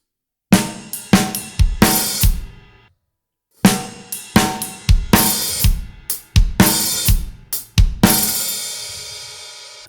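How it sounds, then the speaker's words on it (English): Drum kit playing a pattern, sharp snare hits and ride cymbal strikes in syncopated bursts, a brief pause, then a denser run of accented hits ending in a ringing crash, loud and close with no talk. "we are doing a snare with our ride coming out of that previous pattern"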